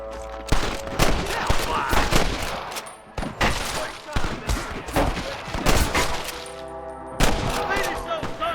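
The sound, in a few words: gunshots in a shootout, Red Dead Redemption video game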